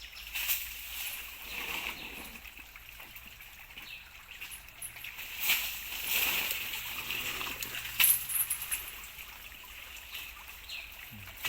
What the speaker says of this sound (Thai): น้ำไหลจากลำธารนะครับ